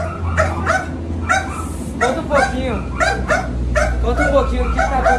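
A docile dog gives short barks and yips mixed with whimpering over a low steady hum. A person talks throughout, partly overlapping the dog.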